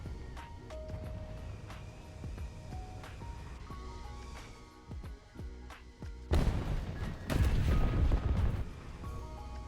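Bomb dropped from an aircraft in War Thunder, with a low engine hum and scattered thuds before a heavy, loud explosion rumbles out near the end.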